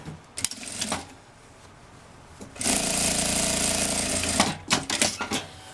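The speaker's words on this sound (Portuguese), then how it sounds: "passo uma costurinha aqui pra fechar o forro" A sewing machine stitches closed the fabric lining of a luxury handbag in a continuous rattling burst of about two seconds, preceded and followed by short clicks and handling noises.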